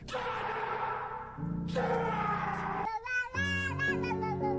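Cartoonish cat meows in a Call of Duty video game, several drawn-out mews in a row over game music, loud and close with no talk.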